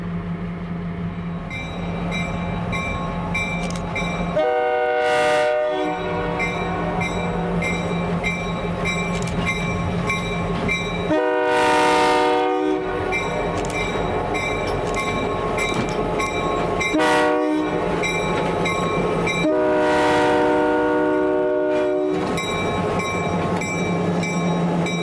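A Housatonic Railroad freight train, NX-12, rolls past loud and near with a steady rumble and wheel clatter, sounding its horn in four separate blasts, the last a long one.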